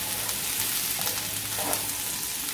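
Boiled, chopped potatoes sizzle and fry in a pan, a steady close crackling hiss running unbroken with faint scraping stirs, and no one talking.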